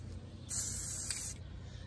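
A spray paint can fires one short burst, just under a second of close, loud hissing, while light coats go onto a cement garden statue being upcycled outdoors.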